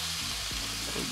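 Beef burgers sizzle steadily on a Ninja Foodi grill as they are flipped, a soft continuous crackle with a brief scrape partway through.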